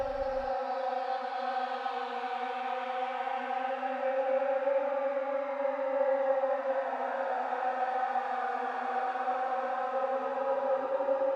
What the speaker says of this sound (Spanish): ahí tenemos entonces un sonido de atmósfera